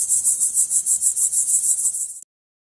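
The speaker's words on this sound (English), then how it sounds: "Grasshopper." A grasshopper from an animal sounds app gives a rapid rhythmic chirping, a regular pulsing rasp of about a dozen beats that stops abruptly.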